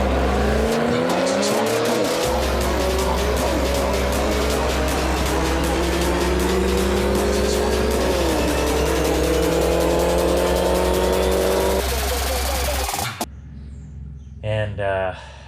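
A modified Pontiac G8 making about 625 wheel horsepower roars at wide-open throttle, loud and sustained with rising engine pitch and a brief shift dip, then cuts off abruptly near the end.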